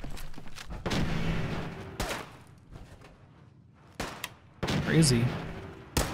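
Several sharp gunshots ring out in Fallout 4 with a modded rifle, spaced bursts with quieter stretches between, followed by a cluster of cracks near the end while a voice speaks.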